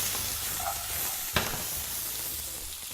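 Small even-sized new potatoes fry in a hot pan with a constant close sizzle, and one sharp clack rings out midway as the pan is tossed.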